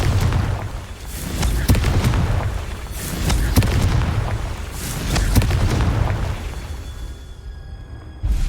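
Repeated booming explosions from the Confringo spell in the video game Hogwarts Legacy, several deep blasts rolling over a rumbling background and fading toward the end.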